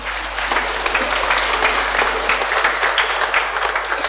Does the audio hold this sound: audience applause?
yes